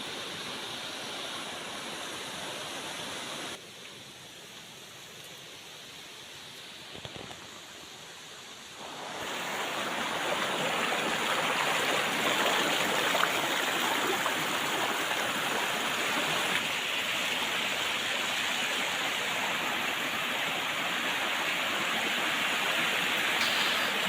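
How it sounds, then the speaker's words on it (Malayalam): Ambanoli waterfall roaring as a steady, broad rush of falling water, quieter at first and then swelling to a loud, continuous roar from about nine seconds on, with no voices. "വെള്ളച്ചാട്ടത്തിൻ്റെ ഇരുമ്പൽ കേട്ട് ഞാൻ ആ ഭാഗത്തേക്ക് എത്തി"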